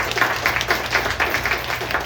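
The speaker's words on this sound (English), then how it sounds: "Let's give another round of applause" Steady applause from a crowd, a dense wash of many hands clapping at even loudness throughout.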